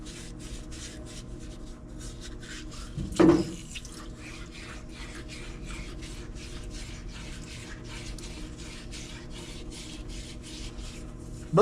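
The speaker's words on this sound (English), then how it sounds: "I'm using this old wore out Scotch-Brite." A worn Scotch-Brite pad scrubs a part from an Echo PE-200 edger in quick, rhythmic back-and-forth strokes, close and soft, with a single brief louder knock early on.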